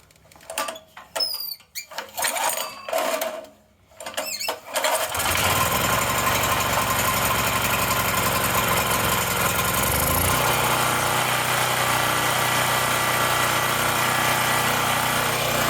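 A Wen Power Pro 3500 portable generator is pull-started with a few rapid cranking bursts, then its small engine catches and settles into a steady loud running drone that shifts slightly in pitch partway through, heard up close.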